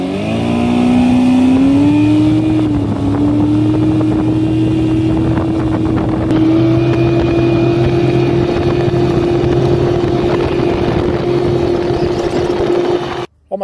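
Boat outboard motor run at full throttle on a lake after a low-compression cylinder fix, a loud, steady high-pitched roar holding near constant pitch, with wind buffeting the microphone and no talk.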